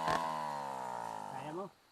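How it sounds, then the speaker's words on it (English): A chainsaw used for illegal logging drones at a steady high pitch, then revs up and cuts off abruptly. The engine is loud and close. "sold his cow for this chainsaw nearly a decade ago"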